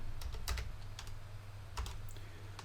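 Someone types on a computer keyboard, a few quiet scattered clusters of key taps with short pauses between them, set against a low steady background hum.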